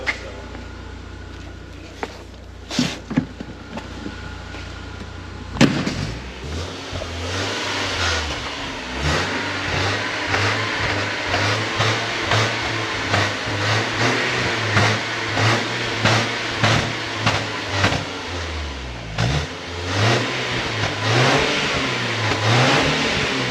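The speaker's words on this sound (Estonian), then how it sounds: "Aga siis praegu paneme auto käima, tiksub koha peal ja vaatame, mis saab." A BMW E46 engine cranks and starts after a few clicks, then idles and is revved repeatedly in rising and falling surges, close and fairly loud, with a brief dip back to idle near the end.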